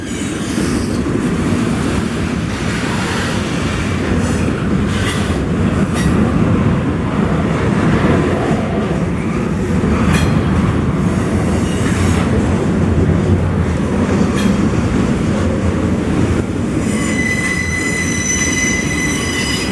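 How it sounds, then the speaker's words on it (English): A loud, steady rumble of a train rolling past, with rattling wheels and occasional high metallic squeals, continuous throughout with no voices. "Well, it's a noisy train."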